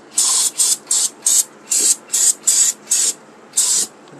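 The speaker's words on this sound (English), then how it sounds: "Spray a little bit, right" Short bursts of aerosol spray hiss repeatedly during a Kia FE3 engine swap into a Mazda B2200, about nine sharp blasts in an uneven rhythm, loud and close with brief pauses between.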